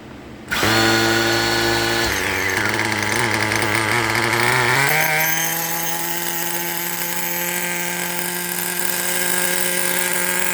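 HPI Nitro RS4 nitro RC car engine cranked by a starter bump box, a loud continuous high-pitched whine that shifts pitch a couple of times as it spins, with no speech.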